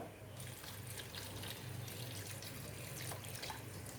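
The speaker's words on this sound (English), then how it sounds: "I have taken about 10 to 12 red chillies, and I am putting hot water" Hot water poured over about 10 to 12 dried red chillies for garlic chutney, a soft continuous splashing trickle, faint and close, with speech under it.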